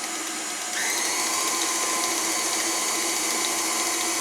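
An electric mixer whirs steadily through cake batter as flour is worked in, a constant buzzing motor tone that steps up in speed partway through and then holds level.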